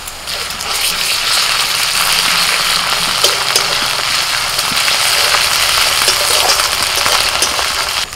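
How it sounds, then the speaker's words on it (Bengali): Ginger-garlic paste sizzling in hot oil with fried chopped onions for a village-style fish curry, a steady loud hiss and crackle running throughout with a few faint stirring clicks. "এবার দিয়ে দিচ্ছি আদা রসুন বাটা 1 চামচ"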